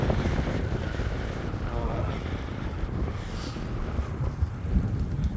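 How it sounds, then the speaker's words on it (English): Headwind buffets the microphone on a bicycle ride, a steady low rushing roar with gusty swells and no talk. "Problem is I get into a headwind like this"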